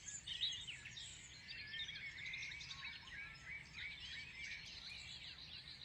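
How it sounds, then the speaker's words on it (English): Several birds chirp and trill in a steady overlapping dawn chorus, bright and moderately close, over a low ambient hum with no voices. "Perhaps you can hear different kinds of birds."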